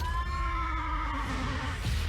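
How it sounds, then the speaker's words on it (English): A horse gives a long, wavering whinny over a rumbling film soundtrack in a Krampus movie, the neigh rising and trailing off at moderate distance. "So Krampus rides a horse across rooftops"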